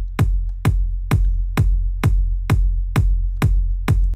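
Eight evenly spaced kick drum hits with deep, long-sustaining bass tails that blur into a continuous low rumble, loud and alone.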